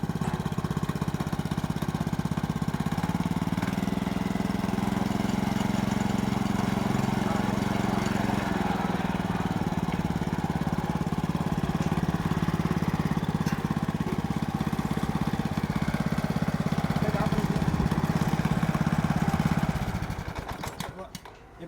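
A 4-stroke 196cc engine on a farm drilling machine runs at a steady, loud, droning idle for about twenty seconds before cutting off, with someone speaking over it.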